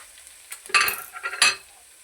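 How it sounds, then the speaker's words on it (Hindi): Masala frying in a pan for a ridge gourd and egg dish, a close sizzle with two quick bursts of stirring and scraping over the hot oil. "इसको आपने अच्छी तरीके से फ्राई करना"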